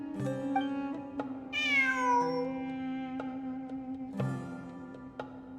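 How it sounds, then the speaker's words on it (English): A cat meows once in the video game Genshin Impact, a clear, drawn-out call over soft, steady background music, with faint chimes before and after. "It really is a cat."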